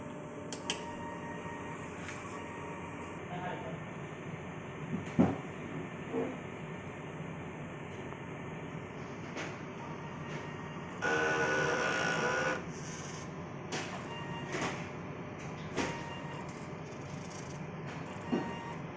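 An inkjet printer running a head-cleaning cycle hums and whirs mechanically for a long stretch, with occasional clicks and a louder grinding burst near the middle.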